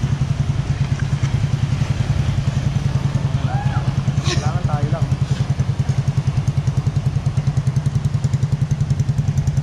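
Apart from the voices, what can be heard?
motorcycle riding through floodwater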